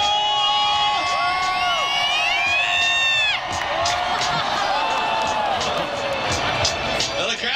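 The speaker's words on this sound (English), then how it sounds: "Well, the crowd seemed to like it right there." A large outdoor crowd at Red Bull Flugtag in San Francisco cheers and whoops in a sustained roar, with loud shouts and whistles rising and falling, and an announcer's voice heard over the noise.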